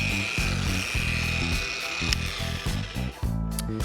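A car polisher buffing a front fender with ceramic polish, a close whirring motor with a steady high tone and uneven low pulsing as the pad works the panel.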